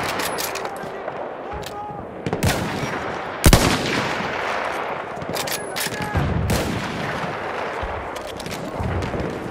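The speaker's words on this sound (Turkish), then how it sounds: "Düşman makinalı tüfeği göründü." Machine gun fire in Battlefield 1: sharp, loud bursts and single cracks punch through a constant rumble of battlefield noise, with a few heavier blasts along the way.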